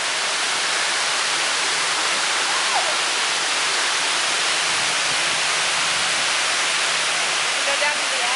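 Steady, loud roar of water cascading down the Houston Water Wall fills the air as a constant dense rush, with faint voices barely emerging beneath it.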